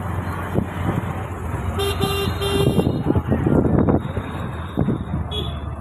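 Evening road traffic rushes past as autos go by and horns toot in short repeated bursts over a steady engine rumble, loud and close throughout, with a voice speaking at moments.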